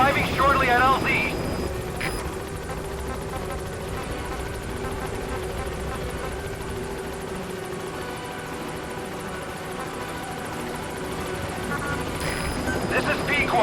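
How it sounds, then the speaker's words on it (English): Steady whirring rotor and engine drone of the support helicopter in Metal Gear Solid V: The Phantom Pain, holding loud and constant throughout with brief electronic tones near the start and end. "Support helicopter has arrived."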